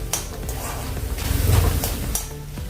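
Spices roasting in a pan with chana dal for a lotus stem curry: dry stirring scrapes and soft sizzling, with utensil clinks against the pan, growing busier in the middle and easing off toward the end.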